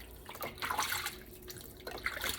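Warm tap water runs and splashes over a pork roast being washed in a sink, an uneven gushing stream with shifting splatter as the meat is turned.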